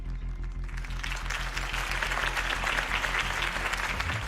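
Steady, dense crowd applause follows Harvey Dent's campaign speech in the Batman Telltale video game, a full and continuous clapping over a low hum that swells slightly toward the end.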